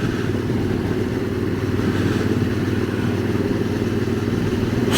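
A QJ SRT600SX motorcycle crosses a very narrow bridge with a metal deck over the Lot river, its engine droning steadily and close with a low, continuous rumble and faint clatter throughout.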